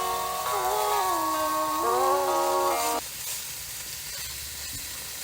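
Vegetables and zucchini sizzle on a Eureka SPRK camp grill with a soft, steady hiss, while a brief melodic tone rises above it during the first three seconds.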